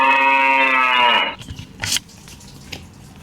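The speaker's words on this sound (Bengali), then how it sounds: "Cow." A child's electronic flash card learning device plays a cow's moo, a single loud, drawn-out low call lasting just over a second, followed by faint clicks and handling noises.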